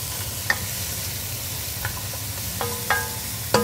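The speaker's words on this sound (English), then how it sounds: "Of course, we're going to stir it up." A spoon stirs carrots and chicken cacciatore in a pot over a low, steady simmering sizzle, with a few sharp clinks and scrapes against the pot.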